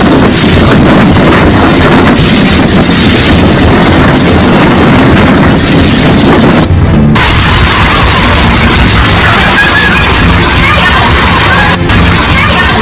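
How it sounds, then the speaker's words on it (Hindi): A strong windstorm with heavy rain in China roars as a loud, dense, continuous rush of wind buffeting the microphone, with a brief dropout near the middle and no clear voices. "आंधी में लोग फंस गए, लगातार बारिश हो रही है, तेज आंधी आ रही है।"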